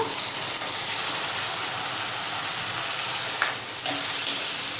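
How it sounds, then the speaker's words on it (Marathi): Onion sautéing in hot oil with boiled white peas and potato for a Malvani-style curry, a steady close hiss of frying with a couple of faint stirring scrapes. "कांदा नरम होईपर्यंत आपल्याला छान परतवायचा आहे तेलामध्ये"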